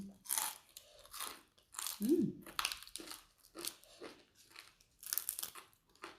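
Close, crisp crunching and chewing of spicy Thai papaya salad with fresh and cooked shrimp and fresh vegetables, in repeated bites with soft mouth sounds and a brief murmur of hum.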